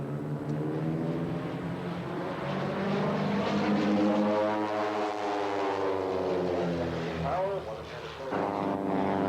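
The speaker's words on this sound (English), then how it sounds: "Plane, diving for speed now, rolling to the upright position." An aerobatic propeller plane drones overhead at an air show, its engine pitch sweeping up and down as it dives and rolls, loud and sustained with a brief dip near the end.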